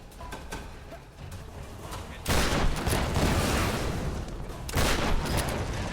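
Gunfire in the video game Tomb Raider, sharp bursts of shots and blasts over a noisy game mix, with two louder volleys standing out.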